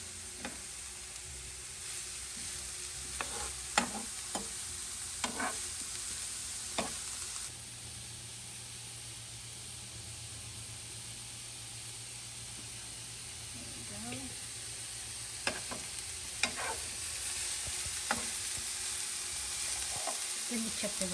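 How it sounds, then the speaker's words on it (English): Carrots sauté in a hot pan with a steady sizzle, broken by occasional stirring clacks and scrapes, while a person talks at times over the cooking noise. "we're just going to Saute it until the carrots are softened a little"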